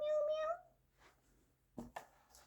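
A voice imitates a cat, giving one clear meow at the start before fading into quiet, with a couple of faint soft knocks near the end.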